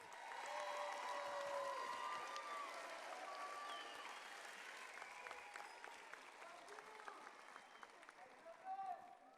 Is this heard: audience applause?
yes